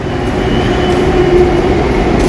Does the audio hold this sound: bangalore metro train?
yes